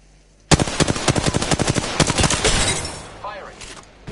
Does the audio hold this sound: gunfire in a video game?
yes